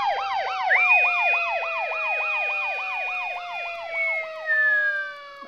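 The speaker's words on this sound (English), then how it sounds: "You know why fire trucks have sirens?" Fire truck siren wailing in a fast, steady up-and-down yelp pattern, loud and continuous throughout, with a longer tone layered over it and no talking.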